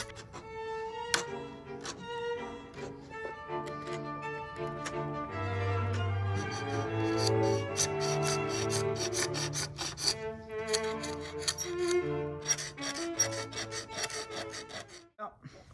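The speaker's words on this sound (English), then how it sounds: "So we're just going to scrape it off." Dry, crusty old bedding compound is scraped off a carved wooden nameboard in repeated rasping strokes, some with squealing, ringing overtones, close and fairly quiet.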